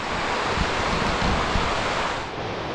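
Loud, steady rushing of a deep mountain stream in a shaded valley, a continuous broadband roar of churning water filling the scene without pause, no voices.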